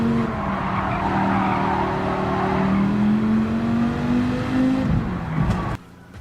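Racing car engines in Gran Turismo 7 drone loudly and hold a rising pitch, then drop off with a brief tire squeal before cutting out near the end.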